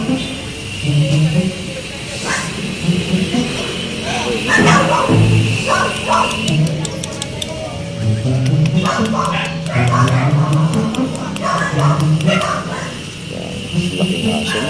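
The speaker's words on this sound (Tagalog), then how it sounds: "Maraming aso." Several dogs, including a territorial one, bark and yip on and off over about fifteen seconds, mixed with people talking nearby and some hissing background noise.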